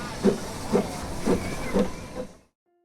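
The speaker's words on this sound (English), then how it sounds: "operates coal-fired narrow-gauge steam locomotives" A coal-fired narrow-gauge steam locomotive hisses continuously with four or five rhythmic chuffs pulsing through the steam, fairly close and clear, before cutting off abruptly.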